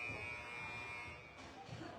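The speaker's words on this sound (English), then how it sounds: "There's the buzzer for the end of the second period." A youth ice hockey arena buzzer sounds a steady, sustained electronic tone marking the end of the second period, heard faint and distant beneath a commentator's voice and the hum of the rink.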